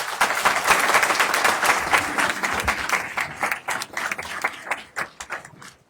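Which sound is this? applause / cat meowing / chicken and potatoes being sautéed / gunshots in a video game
applause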